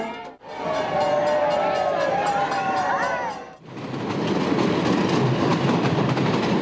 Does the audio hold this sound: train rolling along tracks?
yes